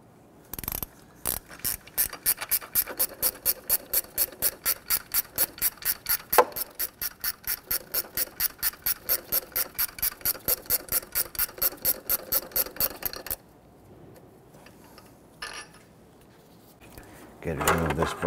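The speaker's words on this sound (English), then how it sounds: "Use our 14mm gear wrench on these lower bolts." A 14mm gear wrench ratchets on a bracket bolt in a long run of fast, evenly spaced clicks, close and loud, then stops, followed by quieter handling noises.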